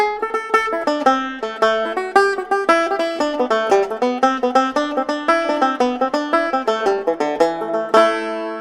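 Irish jig, the Rakes, played plainly on a picked banjo without ornaments: a steady stream of bright plucked notes in a brisk lilting rhythm, close and clear, ending on a sustained chord.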